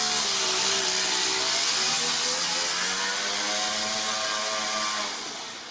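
A four-stroke overhead cam engine fitted in an RC car runs on its first drive. It gives a loud, continuous revving buzz with pitch that rises and falls, then fades slightly at the end.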